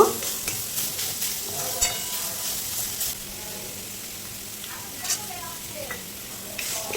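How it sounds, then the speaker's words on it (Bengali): Radish greens fry in a pan with sugar as a utensil stirs them. Scraping strokes and clicks come at irregular intervals over a soft, continuous sizzle, close and moderately loud. "চিনিটা দিয়েও চিনি গলে যাওয়া পর্যন্ত একটু নাড়াচাড়া করে নেব"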